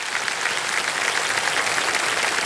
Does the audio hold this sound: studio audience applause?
yes